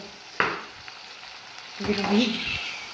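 Onion sautés in a pan as the base for a rice dish. A sharp knock opens the clip, then a short, close sizzle swells toward the end with faint stirring scrapes.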